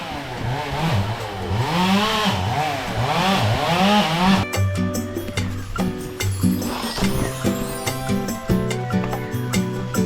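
Near Amboori in Kerala, a chainsaw cutting trees revs in repeated rising and falling surges for about four seconds. A steadier, tonal engine-like drone with clicks follows and carries on to the end, with no one talking.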